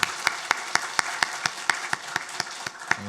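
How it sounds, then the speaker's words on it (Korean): A church congregation claps in a steady, evenly spaced rhythm, each sharp clap distinct and moderately loud, with no talk over it. "격려의 박수하면 좋겠습니다."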